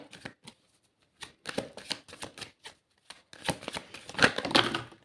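Tarot cards shuffled in bursts, a quick riffle and a pause followed by longer, denser runs of crisp flicking that grow louder toward the end, close by with no talking.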